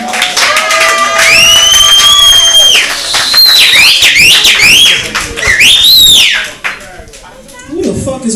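Loud, piercing whistles from a comedy show audience in Brooklyn, long sustained tones then rising and falling swoops, amid crowd noise and shouting.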